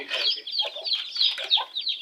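Caged chickens kept at home clucking and chattering continuously at close range, a busy overlapping mix of bright squawks and low clucks.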